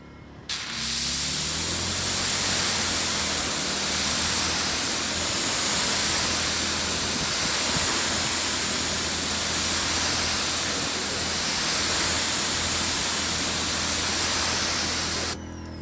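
Water rinses over a freshly waxed car panel, a continuous loud hissing spray that runs steadily without pause and cuts off at the end.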